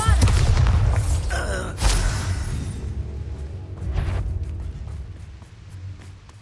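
A booming Confringo blasting-spell explosion from Hogwarts Legacy, sharp and loud at the start, with whooshing bursts and a second thud following, then decaying into a low rumble.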